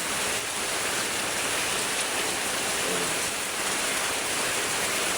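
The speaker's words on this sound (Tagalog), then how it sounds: "Malakas po kasi yung ulan." Heavy rain pours steadily during flooding in a dense, constant hiss, loud and unbroken throughout, with no voices.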